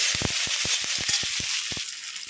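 Spices and black pepper sizzle in a pan for hilsa bharta while a spoon scrapes through them in quick, irregular strokes, close and clear over a constant frying hiss.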